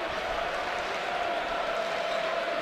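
Basketball arena crowd at a Michigan versus Maryland men's game roaring steadily, a dense continuous wall of cheering and applause heard from within the stands.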